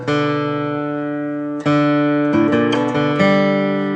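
A clean electric guitar plays a short lick of sustained notes with a few quick note changes, ringing clearly with no talking.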